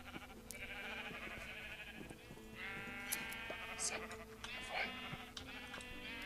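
Sheep in the video game Minecraft bleat repeatedly in a steady series of wavering calls, close and clear over a constant game background, with no one talking.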